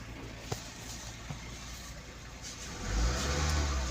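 A Toyota car engine starts up and settles into a quiet idle, then the revs rise near the end with a louder, deeper surge, heard close by.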